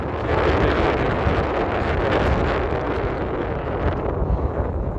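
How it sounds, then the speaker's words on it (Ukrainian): Steady wind blowing from the mainland at Parlee Beach roars and buffets the microphone continuously, a dense rushing noise with no voices. "вітер, от як зараз, вітер дме з материка"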